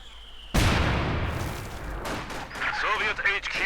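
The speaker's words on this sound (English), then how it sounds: "Mortar popping up there as well." Mortar and gunfire in the Company of Heroes 2 battle game: a sudden loud blast followed by a sustained roar of crackling fire, with further scattered shots and whistling effects toward the end.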